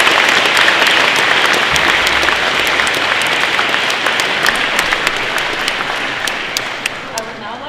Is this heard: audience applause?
yes